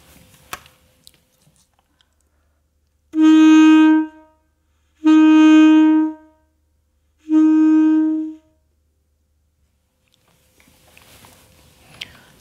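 Three sustained notes on a wind instrument, each attacked with a different tongued articulation, played alone and clearly at the same pitch with short pauses between.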